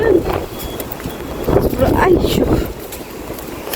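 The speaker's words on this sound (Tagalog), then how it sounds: "So ayan, lakas ng hangin guys." Strong wind buffets the microphone on a stormy day in Hong Kong, with steady roaring gusts that swell and fade under the person talking, while an umbrella is held against it.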